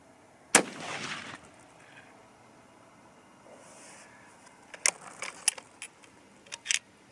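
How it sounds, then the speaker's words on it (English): Three shots from a restored 30-06 Springfield rifle at a 100-yard range: one sharp, loud report near the start, then softer, quicker clicks and clatter that could be further shots or handling of the rifle. "I'll go ahead and shoot a 3-shot group and adjust later"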